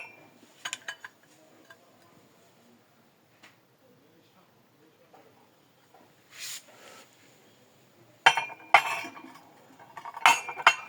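Pieces of a porcelain teapot set are handled, giving a few light clinks early on, then a quiet stretch and a quick run of sharper clinks and taps near the end.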